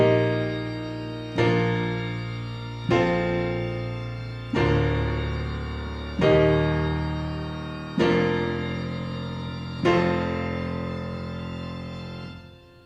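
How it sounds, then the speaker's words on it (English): Big cathedral pipe organ patch on a keyboard, with seven or so full chords struck at steady intervals in the low register, each swelling and slowly decaying into a sustained reverberant pad, with no voices. "you can hear how big that pipe organ is. It's just a big cathedral organ"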